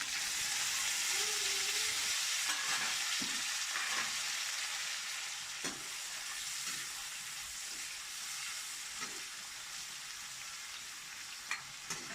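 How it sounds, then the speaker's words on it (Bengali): Carrots and beans fry in a wok in a home kitchen, giving a steady, close hissing sizzle that holds for about twelve seconds. Faint stirring clinks can be heard, and no one speaks. "গাজরটা আর বিন কড়াইটা আমি ভেজে নিচ্ছি।"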